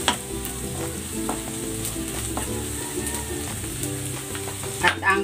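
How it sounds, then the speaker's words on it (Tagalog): Garlic and onion are sautéed in a little oil for a Filipino pork and vegetable dish, a loud, dense sizzle with stirring scrapes and a few clatters near the end, close up with no speech. "Gigisa ko na tong bawang. Lagay na rin natin tong sibuyas."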